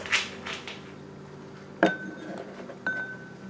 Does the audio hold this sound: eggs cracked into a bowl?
yes